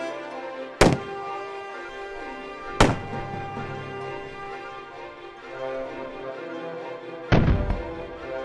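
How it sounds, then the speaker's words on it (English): A cannon is fired at a guest ranch, three sharp booming blasts spaced apart, each cutting through a steady tonal background and fading quickly. "They fire the cannon to close out the day."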